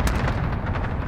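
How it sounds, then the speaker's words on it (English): An airstrike in a video game pounds the area with a fast run of heavy booming explosions, dense and rumbling, one blast rolling into the next with no voices. "Designating airstrike target. This is loader 2-0. Good copy. Buster strike away."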